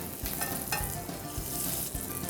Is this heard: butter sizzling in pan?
yes